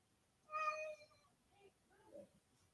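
A cat gives one clear, drawn-out meow, followed by a couple of softer, fainter meows against a quiet background.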